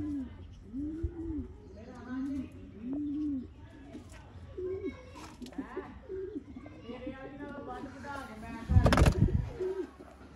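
An old pearl-marked pigeon of the Master Abdullah line coos in repeated low, rolling phrases close by, with people talking around it and a sharp burst of noise near the end.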